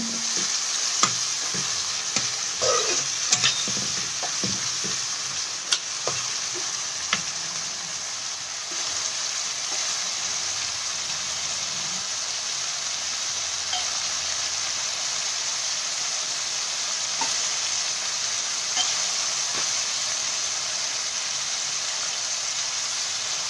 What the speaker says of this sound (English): Just have to keep stirring the tomato